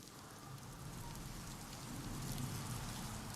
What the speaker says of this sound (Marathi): नक्कीच रात्रीपासून मुसळधार पाऊस सुरू आहे